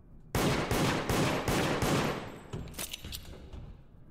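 Gunfire in the game Deceit, a quick run of about seven loud, evenly spaced shots followed by fainter, scattered shots fading out.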